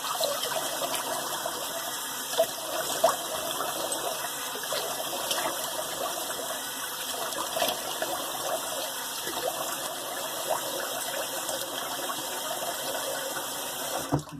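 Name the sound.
water running in sink for rinse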